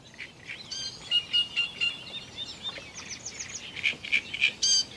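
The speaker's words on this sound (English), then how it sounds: "In the distance I hear loud and clear the great reed warbler." Harsh, chattering great reed warbler song repeats in short bursts over a quiet outdoor river background in the Netherlands, clear but somewhat distant.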